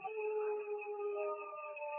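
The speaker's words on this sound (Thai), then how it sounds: "เสียงหมามันร้อง" A dog howling in a sustained, wavering tone with several steady pitched strands, fairly close and alone with no talk over it, lasting the whole two seconds.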